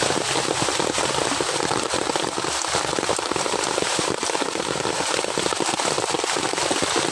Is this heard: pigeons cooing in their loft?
no